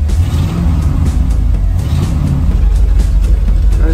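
A 1975 Bricklin SV1 project car with an LS engine swap, idling loud and close with a steady deep rumble and slight uneven pulsing, no talk over it.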